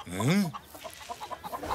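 Farm hens in an animated Zorro cartoon cluck in a quick series of short, close clucks after a brief vocal swoop at the start.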